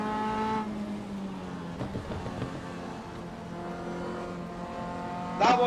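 MCR 2000 race car engine in a racing video game, a steady droning engine tone that holds through the clip, dipping briefly in pitch before a sharp rise near the end, close and fairly loud with no talk.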